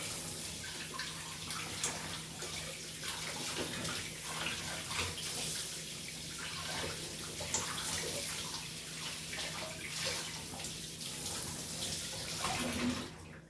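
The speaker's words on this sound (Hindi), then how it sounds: "इसको हम धो देंगे।" Something is washed under running water from a tap into a sink, a steady close splashing and hissing flow that continues throughout, then stops near the end.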